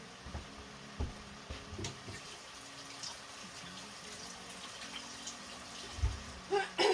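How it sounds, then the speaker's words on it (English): Kitchen tap running as hands are washed, a steady broadband water hiss with scattered splashes and a few thumps, moderately near. "Just wash my hands real quick"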